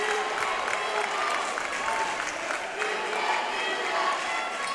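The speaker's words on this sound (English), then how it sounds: "And the Pinewood crowd is getting a little rowdy." A rowdy home crowd at a high school basketball game between SHP and Pinewood cheers and applauds loudly and continuously, with a commentator talking over the noise.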